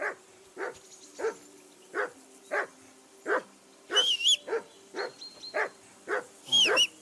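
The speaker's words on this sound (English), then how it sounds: "Henry, that barking's driving me nuts." A dog barks repeatedly in the video game Kingdom Come Deliverance II, a steady run of sharp, close barks at roughly half-second intervals, with a few higher yelping whines mixed in and no talk over it.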